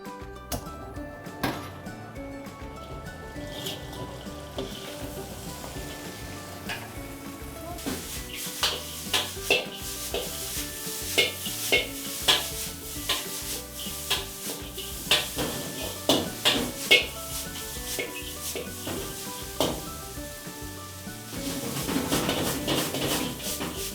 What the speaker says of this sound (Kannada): ಇವಾಗ ಇದನ್ನು ಮಿಕ್ಸ್ ಮಾಡ್ಕೋಬೇಕು. ಹೈ ಫ್ಲೇಮಲ್ಲಿ ನಾವು ಗ್ಯಾಸ್ನ ಆನ್ ಮಾಡ್ಕೊಳ್ಳೋಣ.